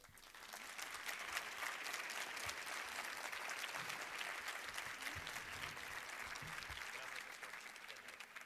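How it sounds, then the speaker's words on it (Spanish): Sustained applause from a conference audience after a lecture, dense steady clapping at even loudness throughout, with no voices standing out. "Les pidamos con un fuerte aplauso al doctor Carlos Montaño"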